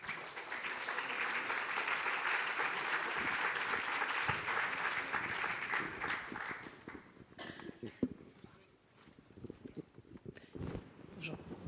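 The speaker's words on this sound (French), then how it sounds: "Vous pouvez les applaudir." A conference audience at a talk on feeding the planet gives steady, full applause for about seven seconds. The clapping then breaks up into scattered claps and movement as people settle in.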